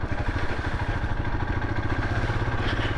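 A motorcycle engine drones steadily and close, with a rough, throbbing mid-range rumble and a constant wash of noise as the bike rides through puddles on a winter road.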